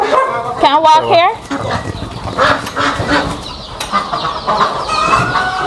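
A dog barks and yelps a few times up close on a chicken farm in Guyana, with chickens clucking and people chatting in the background.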